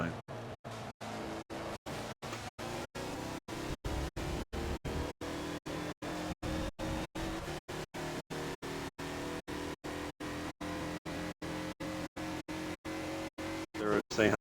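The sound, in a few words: race cars at Spa in a racing video game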